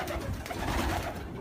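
Pigeons in a loft coo softly in a brief, close, continuous murmur of low throaty calls with no talking.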